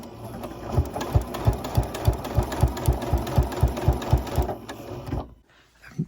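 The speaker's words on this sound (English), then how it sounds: "going to do an understitch so that the collar will stay nice and firm along the neckline" A sewing machine understitches the seam allowance on the collar of a winter cape, running in a steady rhythmic chug of evenly spaced stitches for about five seconds before stopping abruptly into near silence.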